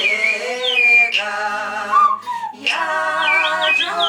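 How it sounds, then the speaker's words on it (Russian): A Udmurt shulan, a small folk clay whistle, played up close in a series of bright, warbling whistled phrases with sliding pitches and brief pauses, loud and clear with no talking. "Удмуртские свистульки, шуланы, еще одна разновидность духовых инструментов."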